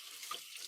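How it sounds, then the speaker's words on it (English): Tap water runs in a short, steady hiss as hands are rinsed in a kitchen sink while cooking, heard on its own. "Let me give my hands a quick rinse."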